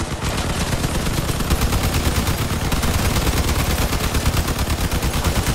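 Sustained machine gun fire from combat vehicles in the video game Crossout, a loud, continuous rapid stream of shots in a steady rattling rhythm lasting several seconds with no voices.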